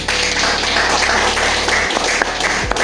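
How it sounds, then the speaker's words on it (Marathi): A room of people claps together at a New Year meet in a branch office, the applause loud, steady and dense for nearly three seconds, with a low hum underneath that drops out near the end. "मुख्य म्हणजे 2026चं आपण स्वागत करूया सगळ्यांनी टाळ्या वाजवून"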